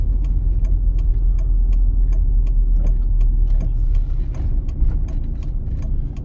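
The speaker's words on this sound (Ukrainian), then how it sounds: "Вмикаємо лівий покажчик повороту." A car's left turn indicator ticks in a steady rapid rhythm inside the cabin during a driving test route in Dnipro, crisp clicks over a low continuous engine hum.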